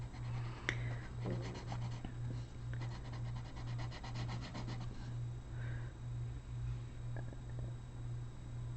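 Colored pencil rubbing and scratching across paper while a coloring book is filled in, a soft, steady scraping of irregular strokes over a constant low hum.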